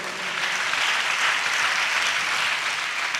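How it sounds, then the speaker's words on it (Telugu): A congregation at a pastor's church sermon claps loudly and continuously, a thick wash of many hands with no voices on top. "గట్టిగా చప్పట్లు కొట్టొస్తూ"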